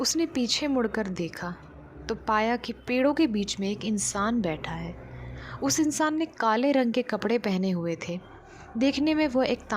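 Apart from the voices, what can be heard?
No everyday noise stands out behind the speech.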